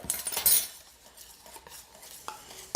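A utensil clinks and scrapes against a bowl while homemade waffle batter is mixed, starting with a louder burst of clattering and then continuing in lighter, scattered taps and scrapes.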